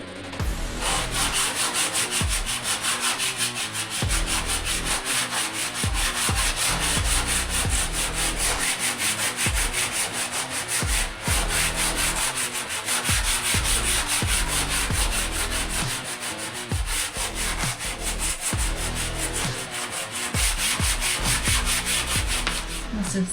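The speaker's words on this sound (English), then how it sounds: "I'm just gonna scuff down the surface, bring down some of the higher lines" Steady, continuous rasping of sandpaper rubbed by hand across a coated surface on a sailboat in repeated back-and-forth strokes, scuffing down high spots, close and fairly loud, with no voices.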